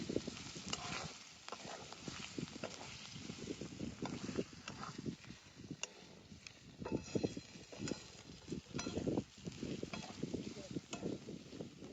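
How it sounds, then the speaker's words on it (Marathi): Ground coconut, green chili and garlic chutney fries in hot oil in a pan, a soft crackling sizzle mixed with irregular stirring scrapes and clatter. "आता वाटून घेतलेली चांगली चटणी तळून घेतली"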